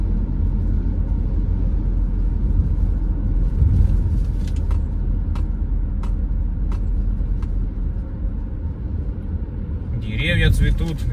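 Cars rolling along Bustleton Avenue in northeast Philadelphia, a steady close road rumble with a few passing vehicles, heard from inside a moving car while someone talks over it.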